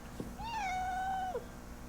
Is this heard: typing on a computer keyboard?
no